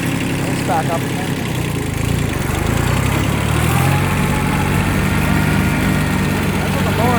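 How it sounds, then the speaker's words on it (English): Kubota B6200 compact tractor running at about 1200 RPM with its PTO-driven mower engaged, a steady loud diesel drone with mower whir throughout, close up and continuous, with faint voices underneath. "That's what the mower sounds like in operation"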